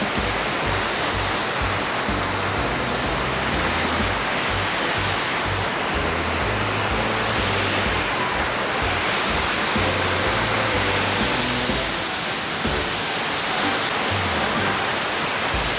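Mantayupan Falls in Barili, Cebu, a tall waterfall pouring steadily, a dense, even roar of rushing water heard close and constant with no breaks.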